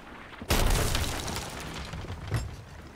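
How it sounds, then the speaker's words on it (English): A cannon fires in the pirate video game Sea of Thieves, one loud close boom with a rumbling tail, then a smaller thump a couple of seconds later. "And that is a cannon, that is a cannon."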